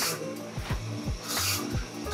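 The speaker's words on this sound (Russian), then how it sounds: "То есть здесь как раз ребята сверлят отверстие." Workers at a microphone factory drill holes in microphone parts, giving repeated short grinding and rasping bursts with hissing between them, fairly close and steady, with no talking.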